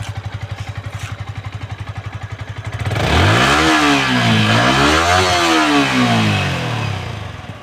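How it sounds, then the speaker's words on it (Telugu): A Yamaha R15 V4 motorcycle idles steadily up close, then the engine is revved hard twice, rising and falling in pitch in loud sweeping surges before dropping back toward idle. "ఓకే గైస్, ఇంజన్ సౌండ్ అయితే వినేశారు కదా."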